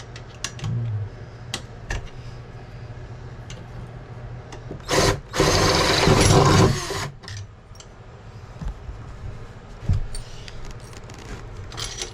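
Power drill briefly driving a screw, one loud close whir of about two seconds amid quieter background handling and knocks during bathroom renovation work.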